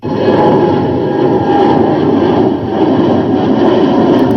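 Loud, steady roar of an Air India airliner's two jet engines up close, a thick continuous rumble with a faint whine above it.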